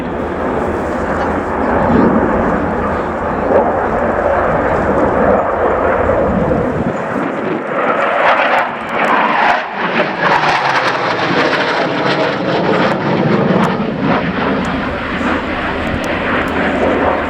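A Polish Air Force Mikoyan MiG-29A jet flies a slow-speed pass in an airshow display at RIAT 2016, its engine a loud, continuous broadband roar that swells and surges, with a commentator talking over it.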